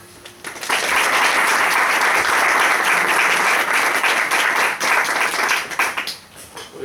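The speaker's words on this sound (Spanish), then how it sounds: "Sin nada más, para el pedido un aplauso." An audience breaks into sustained applause for an agriculture talk, a dense close wash of clapping that holds steady for several seconds and then thins out.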